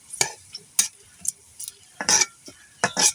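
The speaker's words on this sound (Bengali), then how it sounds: "এই জন্য অল্প আছে নাড়তে থাকি।" A spoon stirs a homemade herbal pain remedy in a pan, giving sparse, sharp metallic scrapes and clinks at irregular intervals, close and clear against a quiet background.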